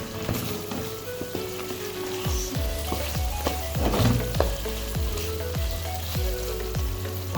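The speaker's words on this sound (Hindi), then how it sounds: "गरम मसाला और धनिया पाउडर। इसको मज़ीद भून लेंगे।" Boneless chicken fries for a Mughlai chicken handi with garam masala and coriander powder, giving a steady, close sizzle broken by repeated stirring scrapes against the pot.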